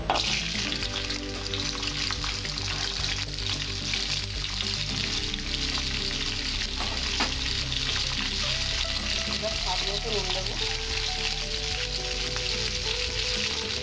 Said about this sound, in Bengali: আমার তেলটা গরম হয়েছে আমি সজনাগুলো ছেড়ে দিচ্ছি এর মধ্যে